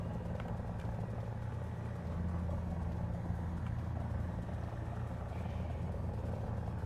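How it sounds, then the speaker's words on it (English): An aircraft in the War Thunder combat game drones on in a steady, low rumbling roar that holds evenly throughout, with no talking over it. "I thought I heard a plane."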